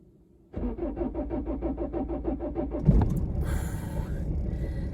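A vehicle engine cranks with a rapid, rhythmic chug for about two seconds, then catches and settles into a steady, close running rumble.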